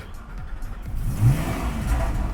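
A 2010 Porsche Cayman 987 engine cranking and catching during a start test, rising into a brief rev before settling, close and fairly loud.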